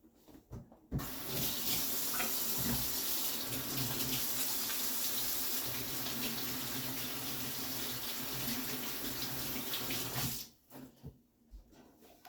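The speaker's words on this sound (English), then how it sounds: "wash my hands because I just touched my shoes" Kitchen tap water runs steadily into a sink for about ten seconds as hands are washed, a loud continuous splashing rush that starts and stops abruptly with quiet room sound on either side.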